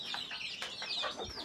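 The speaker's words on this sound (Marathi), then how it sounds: "आणखीन 2 कोंबड्या बसवलेल्या आहेत." Broody hen sitting on a clutch of eggs, giving soft, close, repeated clucks in a short burst with no talk.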